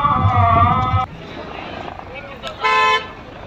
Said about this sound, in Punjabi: ਦੂਸਰਾ ਹੈਲੀਕਾਪਟਰ ਫਿਰ